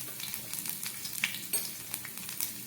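Chopped garlic dropped into hot oil with black cumin seeds, crackling and sizzling softly and steadily with small pops close by, no voices.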